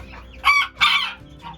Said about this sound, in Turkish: Evet, yarka seramamızın ötüşünü duydunuz arkadaşlar